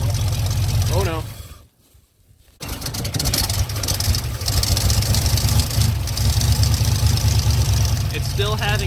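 A 1957 truck engine idles with a steady low rumble, its carburetor flooding; the running briefly drops out near two seconds before picking back up, with voices talking over it.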